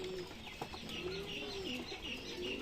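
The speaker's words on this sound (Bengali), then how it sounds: "এই যে এখানে কিছু পায়রা খাচ্ছে" Pigeons in a breeding loft coo softly and repeatedly, low drawn-out calls overlapping amid faint background rustle, with no voices.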